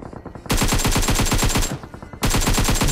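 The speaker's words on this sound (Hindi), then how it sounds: "और हर तरफ से फायरिंग होती है।" Automatic gunfire in the PUBG Mobile battle game, loud rapid bursts of close machine-gun shots with a brief pause between two long volleys.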